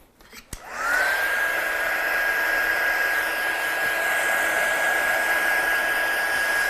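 Hair dryer switching on and running steadily at close range, a loud constant whoosh with a steady whine, drying a handmade paper card after inky background layering.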